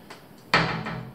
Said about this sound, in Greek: Και ερχόμαστε εδώ πέρα και με το που ανοίγεις την πόρτα